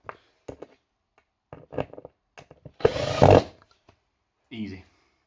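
A power drill drives screws into a wooden drawer during chest-of-drawers assembly, giving short whirring bursts and one longer loud grinding run, with clunks of wood handling between them, up close and without talk.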